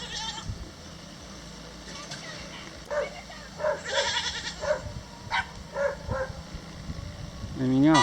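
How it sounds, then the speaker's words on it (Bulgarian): Two young goats bleat in short, wavering cries at close range, several calls in quick succession over steady outdoor background noise, with a person speaking nearby. "Две козлета вече втори път идват до тук."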